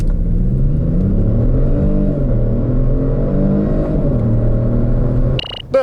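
A 2018 Kia Stinger 3.3T twin-turbo rear-wheel-drive sedan accelerates hard: a loud, close engine roar climbs through the gears with brief dips at each shift, then cuts off abruptly near the end.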